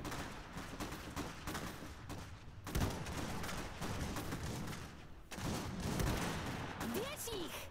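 Bursts of gunfire and explosions from the PC strategy game Iron Harvest 1920+ in a Polania campaign defense mission, a dense stream of crackling shots and blasts with brief pauses, fairly faint overall.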